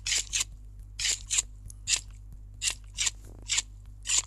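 Cutting sounds in a pony-themed video game: repeated crisp scissor-like snips, often paired, arriving at a steady rhythm over a low constant hum, with no talk.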